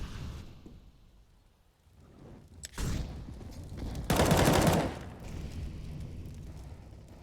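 AK rifle fire from a Counter-Strike match on Inferno, heard as a loud sustained burst of rapid shots after a quieter shot or two, over a low background of game ambience.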